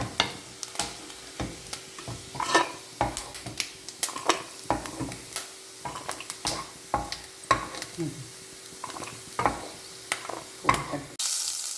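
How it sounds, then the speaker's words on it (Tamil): Mashed nendran banana sautéing in ghee, with a ladle tapping and scraping the pan in frequent irregular knocks over a light sizzle, close and unaccompanied by speech. "இப்போ இதே நெய்யில் நம்ம மசிச்சு வச்சுருக்கிற இந்த வாழைப்பழத்தை நேந்திரம் பழத்தை சேர்த்து வதக்கிட்டோம்"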